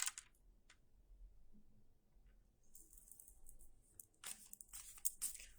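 A deck of cards is shuffled close up in a quiet room, faint papery riffles and snaps in a few short bursts separated by pauses.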